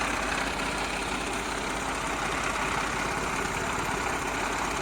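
A 2009 New Holland 3630 tractor with a 35 hp engine idles steadily, a continuous broadband diesel rumble with no talk, holding an even loudness throughout.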